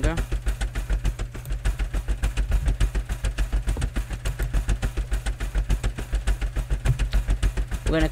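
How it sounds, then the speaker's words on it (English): A car engine in the Scrap Mechanic video game runs steadily throughout, its loud, rhythmic chugging pulsing at an even idle-like rate, with no voices over it. "We're going to cut the engine out because it's very loud."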